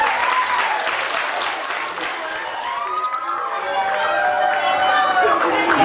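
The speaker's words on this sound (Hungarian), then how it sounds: "mint óriási nagy tapsot neki" A crowd at a school carnival costume parade applauds in a loud, sustained wash of clapping, with children's cheering and chatter rising through it.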